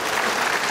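A television studio audience applauds and cheers in a steady, dense wash of clapping throughout, loud and continuous with no gaps.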